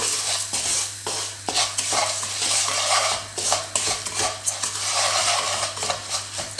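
Fish and vegetables being stirred with turmeric in a cooking pan, a steady scraping and clinking of a utensil against the pan that continues throughout at close range, with no voices.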